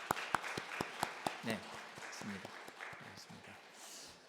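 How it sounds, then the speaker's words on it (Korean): A standing church congregation at a Sunday worship service claps, with a few distinct early claps that swell into general applause, while a voice speaks over part of it. "우리 잠깐 일어나셔서 우리 아쉽지만 하나님께 영광의 박수하고 축복합니다"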